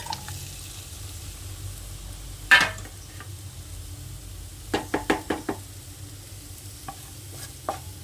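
Tomatoes cook in a pan for radish chutney, a faint low sizzle broken by a sharp knock and a quick burst of spoon clacks against the pan.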